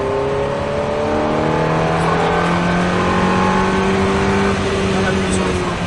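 Ferrari F430 accelerating hard on a race track, engine note climbing steadily and loud from inside the car, rising harmonics through each gear with faint tire noise, a voice talking over it.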